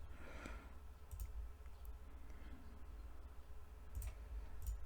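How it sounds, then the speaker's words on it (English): A computer mouse clicks a few times, quick and crisp, in a quiet room while a cylinder is placed in Moi3D 3D modeling software. The clicks are faint and sparse, with a low background hum. "So I click on cylinder."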